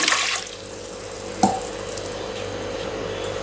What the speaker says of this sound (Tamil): குக்கரில் கொஞ்சமாக தண்ணி சேர்த்துக்கலாங்க